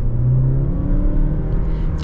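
A 2024 Dodge Hornet R/T accelerates with a close, steady engine rumble and a rising whir from inside the cabin.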